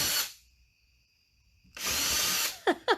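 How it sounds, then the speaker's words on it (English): A power drill whirs in two bursts with a pause of faint whine between, followed by two quick rising squeals as the bit spins down. "we're going to drill, not all the way through the material"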